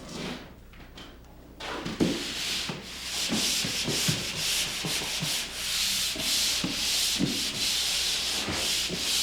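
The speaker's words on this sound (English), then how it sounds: "I start the sanding with a pole sander using a 120 grit or finer sanding screen or paper." Rhythmic scraping strokes of a pole sander with 120 grit or finer screen or paper rubbing across drywall, repeated back and forth at a steady pace, close by and fairly loud.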